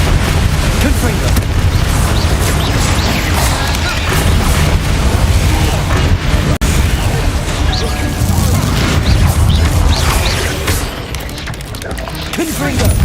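Dense, loud barrage of booming blasts and rumbling crashes from Confringo blasting curses in Hogwarts Legacy, continuous with a brief sharp break near the middle, dense low-end rumble throughout.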